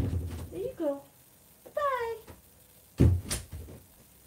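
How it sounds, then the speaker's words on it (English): A pet cat meows three times indoors, short rising-and-falling calls spaced about a second apart, close and clear with quiet room tone between. "you have the cutest meow"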